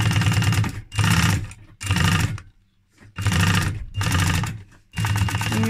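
A sewing machine stitches a seam through rigid leather in six loud, rapid mechanical bursts separated by short pauses, running close by with no talk over it.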